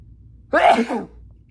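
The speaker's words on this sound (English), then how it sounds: "I'm gonna sneeze." A single sharp sneeze bursts out close up against a quiet background.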